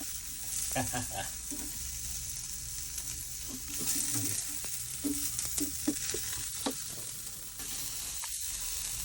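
Ground beef sizzles and fries steadily in a hot pan while a utensil stirs it, with scraping and clinking spread through the whole stretch and no voices.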